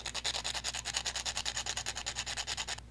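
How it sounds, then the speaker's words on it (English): Sanding a metal dip pen nib by hand, close-up, in a steady series of rhythmic rubbing strokes, roughly ten per second, with no talk. "Let's go ahead and sand it some more."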